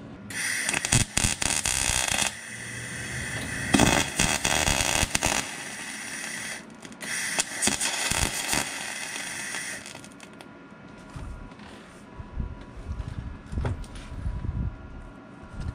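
Welding a nut onto a broken exhaust stud to fill it in: loud, dense crackling arc buzz running in bursts with short breaks, easing to a quieter, patchier sputter in the later seconds.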